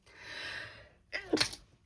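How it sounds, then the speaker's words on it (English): A long, breathy intake of air, then a sharp, explosive sneeze close to the microphone, with a short trailing exhale. "I'm going to sneeze."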